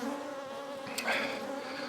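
Honey bees drone steadily around a busy hive, a close, continuous buzz that swells briefly in the middle and carries on alone with no talk.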